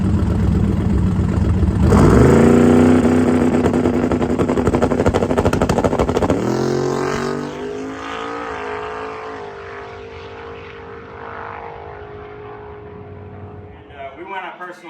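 A drag racing car makes a full pass down the strip, its engine roaring loudly and steadily, swelling early before fading into a lower, receding drone as the car pulls away.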